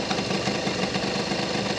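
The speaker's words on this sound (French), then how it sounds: "retrouver un régime de ralenti le plus bas possible, sans que le moteur cale et sans que la roue arrière ne tourne" A scooter engine ticks over at a low idle right after its carburetor mixture screw has been adjusted, a steady, close, continuous rumbling hum with no talking.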